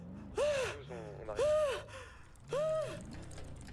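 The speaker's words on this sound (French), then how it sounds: "Et il va nous faire une crise d'asthme." A man pants hard and out of breath after fleeing on a bicycle, sharp, loud rasping gasps coming in three bursts at close range with wheezy breaths between them.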